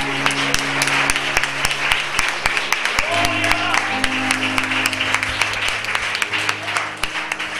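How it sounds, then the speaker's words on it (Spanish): Church congregation applause during a prophetic revival service, loud dense clapping throughout with a sustained organ or keyboard chord and crowd voices mixed in. "Denle un aplauso fuerte a Dios."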